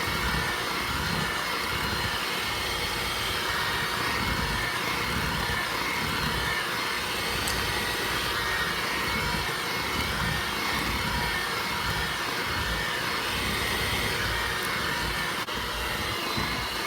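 An electric mixer beats flour into butter cookie dough, giving a steady loud motor whir with a constant even drone and no pauses or talking.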